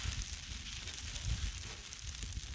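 Beef stir fry sizzles on a Blackstone griddle in a continuous, faint hiss with light crackle. A few soft low thumps from stirring are heard, and no one speaks.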